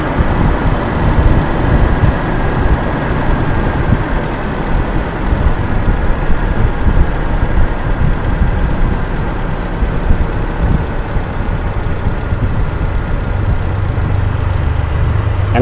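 A Toyota Kijang Super engine runs steadily through a tune-up, with a continuous, fairly loud idle and low mechanical rumble and no talk.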